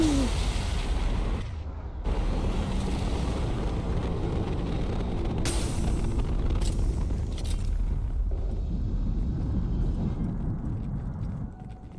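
A huge explosion in Mass Effect 2 sets off a sustained roaring, rumbling blast with crackling debris. It stays loud for the whole stretch, with sharp cuts and bursts as it goes on.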